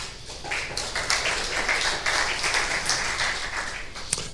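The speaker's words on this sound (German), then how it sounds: "Ich bitte um einen Applaus für Andreas Krumtink." A conference audience applauds a speaker, a dense, steady roomful of clapping that holds for several seconds before a single final clap near the end.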